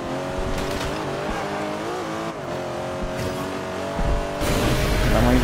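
A race car accelerating hard on a nitro boost in the racing video game Forza Horizon 2, a steady rising engine whine with tire noise, surging louder near the end.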